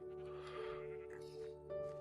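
Sheep bleat in the video game TerraFirmaCraft, with a few drawn-out, wavering calls at modest loudness over a steady tonal game background and no talk.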